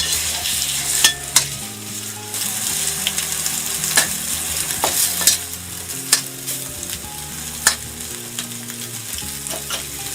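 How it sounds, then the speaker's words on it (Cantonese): Minced pork sizzling and frying in a wok as a spatula breaks it apart, with a continuous crackle punctuated by repeated sharp metallic scrapes and taps of the spatula, close up and loud. "用個鑊鏟就搓散佢。"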